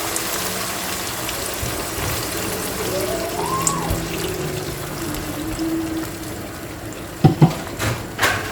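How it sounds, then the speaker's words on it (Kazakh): A thin, steady trickle of water pouring into a pan of fried food, running continuously, followed near the end by a few sharp clinks. "Енді кішкене су құямыз."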